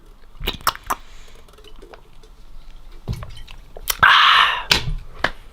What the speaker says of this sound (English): I'm going to drink a little bit more water.